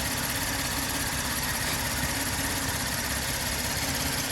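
A car engine idles steadily at an auction yard walk-around, a low continuous rumble with slight knocking texture, close and unchanging throughout with no talk.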